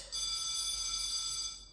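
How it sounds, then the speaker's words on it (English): Farm alarm sound effect: a steady electronic alarm tone with a stack of bright harmonics, holding at an even level for under two seconds with no talking. "I have an alarm on my farm."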